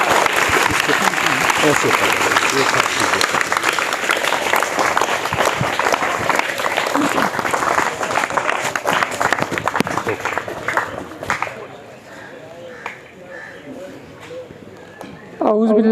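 An audience applauds to welcome a speaker at a gathering, with dense, loud, sustained clapping that thins and fades toward the end as a voice speaks over it.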